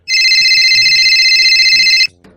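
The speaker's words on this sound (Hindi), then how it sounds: "अरे ये किसका फोन आ रहा है इस लोग का फोन पे?" A loud, bright mobile phone ringtone trills continuously for about two seconds on an incoming call, with someone talking underneath and a short voice after it stops.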